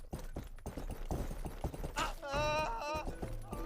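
Horse hooves clip-clopping in the video game Rustler as a rider enters a city, a quick rhythmic patter mixed under someone talking, followed by a whinny.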